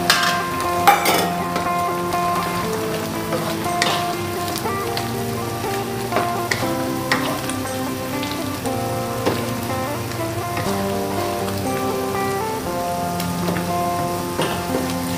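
Ground coriander, cumin and fennel spice mix sizzles steadily in a hot pan, a continuous crackling fry held at an even level for the whole stretch.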